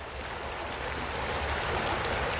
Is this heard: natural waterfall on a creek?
yes